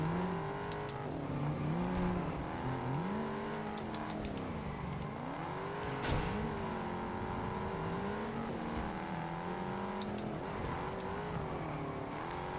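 A Ford Mustang GT500 engine in the Test Drive Unlimited Solar Crown racing game revs up and down steadily, its rising and falling tone continuous and fairly loud throughout, with no speech.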